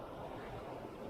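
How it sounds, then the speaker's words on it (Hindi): Continuous rushing water, a steady broadband wash with no breaks and no voices, from a mountain river flowing nearby on the road to the Valley of Flowers. "तो यहाँ की पानी की कलकल की आवाज़ आपको सुनाई दे रही होगी।"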